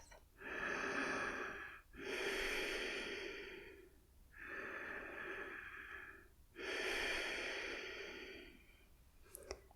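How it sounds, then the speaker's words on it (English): Four long, slow deep belly breaths during a calming breathing session, each a full airy inhale or exhale lasting about two seconds with short pauses between, close and soft with no talking. "That's called belly breathing, or diaphragm breathing, or deep breathing."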